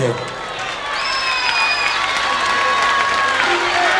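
A concert crowd applauds and cheers for a singer, dense sustained clapping with whistles rising over it, loud and full throughout.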